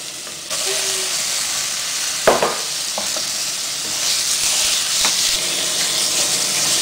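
Pork hits a hot pan with aromatics for a Thai sagu-ball filling, setting off a loud, steady sizzle; a single sharp clatter and a few brief knocks break through the constant frying hiss, with no voices.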